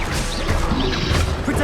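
Incendio fire spell cast in Hogwarts Legacy, a loud, dense burst of crackling, crashing blasts that fills the whole moment over a busy game backdrop.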